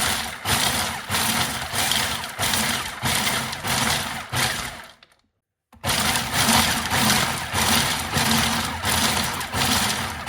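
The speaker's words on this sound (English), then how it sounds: "here we just need to give a little bit of a pulse just to chop them up" A food processor chopping pumpkin and sunflower seeds in repeated pulses, a loud steady whirring motor with rhythmic surges, cutting out for a moment before running again.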